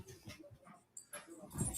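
An elderly dog that has just been pushed down stairs whimpers and pants in soft, broken bursts, close and quiet, with a brief high yelp near the end.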